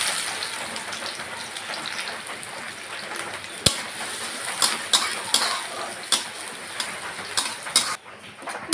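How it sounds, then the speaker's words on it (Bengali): Chopped onions tossed into a hot pan for thor dal and stirred, giving a steady sizzle like rain with sharp clinks of utensil against pan scattered through, close by and without talk. "এবার দিয়ে দেব কুচনো পেঁয়াজগুলো।"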